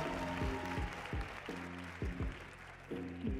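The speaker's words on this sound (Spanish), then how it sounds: "¡Aplauso, Madrid!" A small Madrid audience claps and cheers at a freestyle rap battle event, with a steady wash of applause under brief shouts, fairly close and moderately loud throughout.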